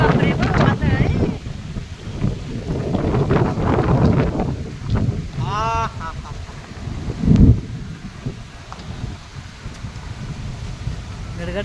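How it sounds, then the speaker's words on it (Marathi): Gusty wind storm with rain in the afternoon in Dasturi, Khed, Konkan, roaring steadily against the microphone in buffeting waves while a person talks excitedly over it. "केवढ्या जोरात वादळ सुटलंय"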